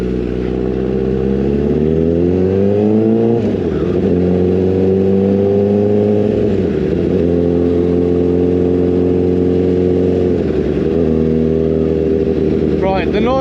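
Honda CBR 1000 Fireblade sport motorcycle engine, a loud close throaty roar climbing and dropping through several rev surges and gear shifts, continuous throughout, with a voice over it.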